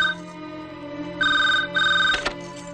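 An indoor telephone rings in short repeated electronic bursts, loud and close, with a brief clatter near the end as the bursts continue.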